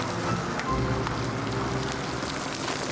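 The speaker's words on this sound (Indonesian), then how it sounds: "Aduh, hujan tuh." Steady rain falls on surfaces outdoors with a dense, even patter that holds at a moderate level throughout, with no voices over it.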